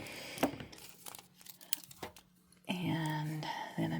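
Scissors cutting a generous piece of transfer foil for a bling application, with crinkling and snipping sounds up close, followed by a steadier rustle of foil being handled.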